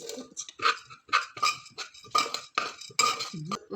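Rice being stirred in a pot with a metal spoon for ration-rice payasam, giving repeated scraping clinks and clatters in an uneven rhythm, close and fairly quiet, with no talking.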